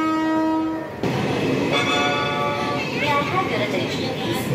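A passenger train pulls out of Bardhaman station: a long horn blast opens, then the loud, steady rumble and rattle of the moving carriages carries on, with a few brief tonal squeals.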